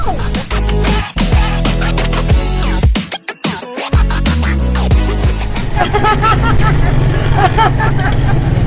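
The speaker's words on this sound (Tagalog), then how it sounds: "We're here inside the tricycle!" Riding inside a lowered motorized tricycle in Manila, the small engine drones and revs loudly up close, with a brief dropout, while voices chatter over the ride.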